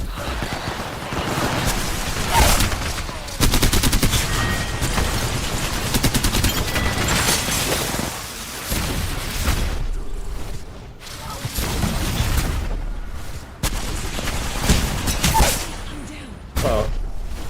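Smart bullets firing in the video game Apex Legends, loud close bursts of rapid gunfire running almost continuously with short breaks, with voices talking over the shooting.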